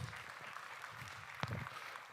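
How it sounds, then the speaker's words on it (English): Faint, distant audience applause at a conference panel event on climate resilience in African agri-food systems, a soft continuous patter with one slightly louder burst. "Let's give another round of applause."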